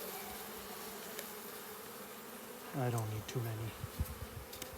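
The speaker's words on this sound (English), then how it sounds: "I'm just gonna grab some live bee samples." Live honey bees caught in sample vials from a hive give two short, close, droning buzz bursts over a quiet room hum, with someone speaking briefly nearby.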